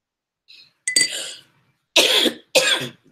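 Three separate coughs close to the microphone, a soft short one followed by two sharp, loud bursts, with brief quiet gaps between them.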